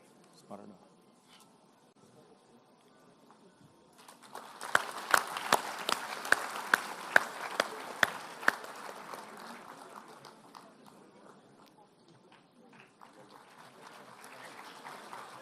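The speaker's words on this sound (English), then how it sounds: "A loud round of applause, please, everybody." Graduation audience applauds a medal winner at a university convocation, a moderate swell of crowd clapping with several sharp nearby claps, rising after a quiet start and tapering off into background murmur.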